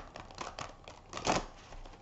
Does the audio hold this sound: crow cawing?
no